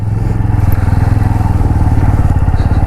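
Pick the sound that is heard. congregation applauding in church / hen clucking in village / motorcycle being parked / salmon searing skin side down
motorcycle being parked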